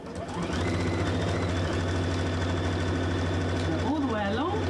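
A sewing machine quilting a fabric glasses case runs as a steady, close mechanical hum, with a voice rising over it near the end.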